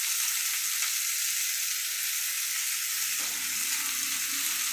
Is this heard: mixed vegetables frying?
yes